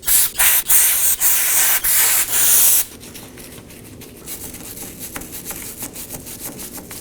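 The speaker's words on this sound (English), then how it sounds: "I'll be using some brake cleaner and a wire brush." A wire brush scrubs the axle mating surface on a Chevrolet Equinox, harsh rhythmic strokes up close, followed by quieter, lighter scratching and rubbing.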